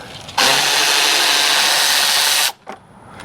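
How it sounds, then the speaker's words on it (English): A socket tool spins a 10mm bolt off the front fender area of a Jeep Gladiator, making one loud, steady whirring burst of about two seconds that cuts off abruptly, followed by a brief clunk. "There's a 10mm bolt up there, and so you're going to put your socket up in there, take that off"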